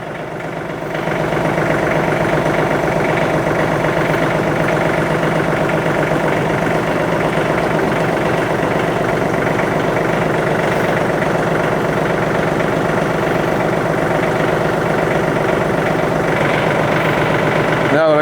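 A John Deere 5310 tractor idles steadily close by during a tire repair, a loud, even diesel rumble with a regular pulsing beat that starts up after a moment and holds throughout.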